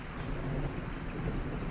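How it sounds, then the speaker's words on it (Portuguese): Thunder rumbles low and continuous through a rainstorm on a road, a dense steady roar with no voices over it. "Sob o rugido de um trovão"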